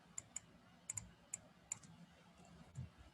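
Quiet clicks of a computer keyboard, a handful of separate light key taps spaced irregularly across a few seconds, faint and close, with no talk.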